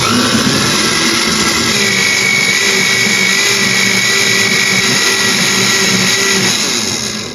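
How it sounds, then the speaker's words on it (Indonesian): A blender runs continuously at high speed, a loud steady whirring motor drone that holds for several seconds before easing off slightly at the end. "Selanjutnya ini akan aku blender sampai halus."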